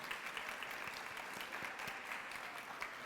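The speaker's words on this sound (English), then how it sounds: "let's give them another round of applause" An audience at a Women's Equality Day event gives sustained, even applause, soft and somewhat distant, with no voices over it.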